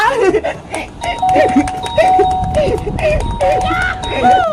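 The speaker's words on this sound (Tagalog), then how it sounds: "Walang tao, pwede na ako magpindot sa doorbell nila" A doorbell chimes repeatedly with sustained electronic tones while a person talks over it and other voices sound in the background.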